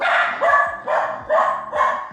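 A house dog on guard barks four times in a steady rhythm, each loud bark close and clear with a short pause between, reacting to someone at the door.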